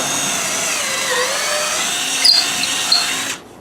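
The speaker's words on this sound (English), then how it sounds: "I would just take the drill gun" A power drill bores a hole through the wooden frame of a Rocken Adventure swing set, its steady high whine held for about three seconds with a couple of brief bites, then cutting off abruptly.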